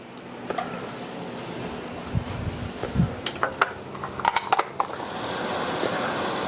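Minced garlic is stirred in a pan while browning for mashed potatoes, with scattered metallic clinks and scrapes of the utensil against the pan over a low sizzling hiss, close and moderately loud, with no talk.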